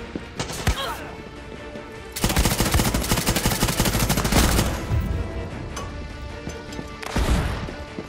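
Gunfire in the video game Far Cry 6 crackles in scattered shots, then a dense, sustained burst of automatic fire for a few seconds, trailing off into sporadic loud reports.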